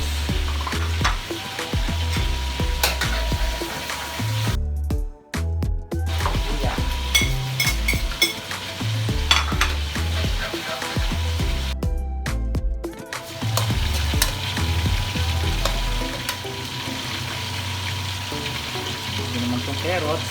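Lapu-lapu fish fries in a pan, a steady crackling sizzle that carries on throughout with occasional stirring and utensil clinks. Two short quiet gaps break the sound.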